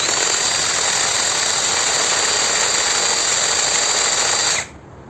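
Geevorks cordless screwdriver drill runs at low speed with a steady, loud whirring hum that holds evenly for several seconds and then cuts off abruptly as the trigger is released.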